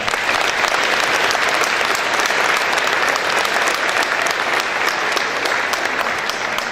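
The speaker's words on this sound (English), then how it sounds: "That is worthy of applause." Audience at a chamber of commerce governor's breakfast applauding an outstanding citizen: steady, thick applause from a large room of people, loud and even throughout, with no pause.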